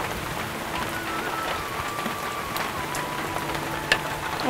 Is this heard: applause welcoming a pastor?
no